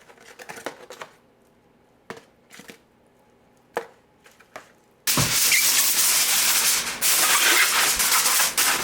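Ribs coated in sauce tossed in a hot pan, starting with a few sharp clacks and knocks, then a sudden loud, steady hissing sizzle that holds to the end.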